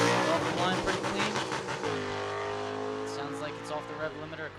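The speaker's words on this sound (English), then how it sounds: "Sounds like it's off the rev limiter. Car did not shift." A stock or super stock drag race car engine screams at high, steady revs, buzzing against the limiter after failing to shift, with a commentator talking over it.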